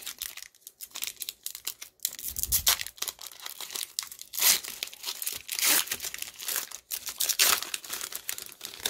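Crinkly plastic wrapping of a trading card pack is torn and crumpled open in bursts of rustling and ripping, close up, with no talking.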